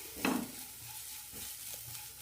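Chilli powder and garam masala are stirred while sautéing in a pan: a brief scraping stir up front, then a soft, continuous sizzle with light spoon movements, close and quiet, without speech.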